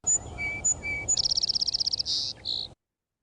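A recorded songbird alternates high and low whistled notes, then gives a fast pulsing trill, a buzzy note and a closing whir, loud and close over faint background hiss before cutting to silence.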